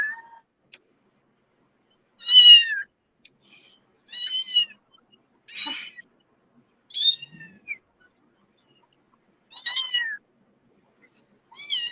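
A female cat meows repeatedly, about six short, clear calls spaced a second or two apart, close by and loud, with quiet pauses in between and no talking.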